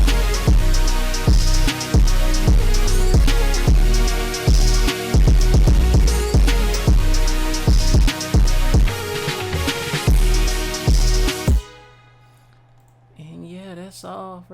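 A loud, dense hyperpop beat with punchy drums and bass chugging in a stuttering, halftime triplet feel, then cutting out as a voice starts talking.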